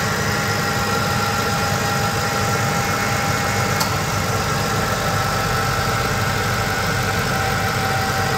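A 2005 Ford F-150's 5.4-litre V8 engine idles with a steady, even hum and low vibration, close and continuous, with a faint high whine throughout.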